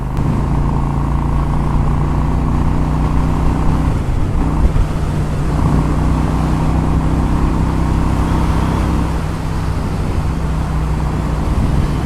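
A Honda Shadow ACE 750 motorcycle rides at around 80 mph, its engine droning steadily and loudly with a slight dip mid-way, wind rush around it.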